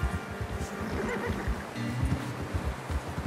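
A horse whinnies in the video game Red Dead Redemption 2 amid low, rumbling background noise and soft thuds, with no talking.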